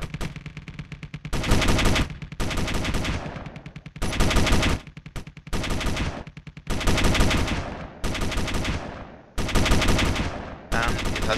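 Rapid bursts of automatic fire from a 23mm defense gun on a frigate in the space combat game Space Engineers, loud repeated volleys of a second or so separated by short gaps.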